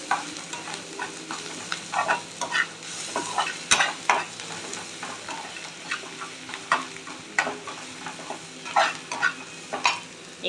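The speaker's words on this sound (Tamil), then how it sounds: "நல்லா கலந்துக்கலாம்." Egg bread bonda mixture with chillies and chilli powder is stirred and mixed in a bowl, giving a series of close, irregular wet squelches and scraping clatters over about ten seconds.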